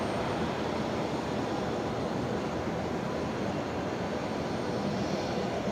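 A Beechcraft King Air 200 twin turboprop on the runway at Brisbane Airport produces a broad, steady engine roar that holds level throughout, loud and continuous with no voices.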